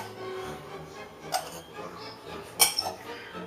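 Spoon scrapes and clinks against a bowl while pepper is mixed into chicken pie filling, soft stirring rubs broken by two sharper metallic clinks, close and fairly quiet.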